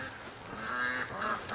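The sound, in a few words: ducks honking outdoors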